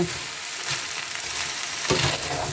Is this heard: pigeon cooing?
no